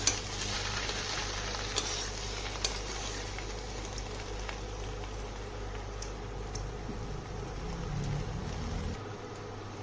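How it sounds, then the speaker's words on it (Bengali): Boiled potatoes coated in poppy seed paste are stirred in a hot pan, giving a continuous close sizzle with a few sharp scraping clicks from the utensil. "পোস্তটা ভালো করে আলুর সাথে মিশিয়ে নিয়েছি। ভালো করে নাড়াচাড়া করে নিতে হবে।"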